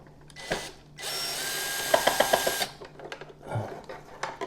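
A power drill whirs steadily for about a second and a half while backing out a Torx 20 screw inside a Jura coffee machine, followed by a few short clicking ratchet-like ticks, close and fairly loud.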